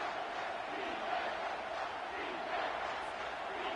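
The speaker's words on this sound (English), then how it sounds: "3rd down and the crowd really getting into it." A stadium crowd roars at a late third-down moment in an American football video game, a steady dense wash of cheering that swells slightly in waves, heard at a modest level.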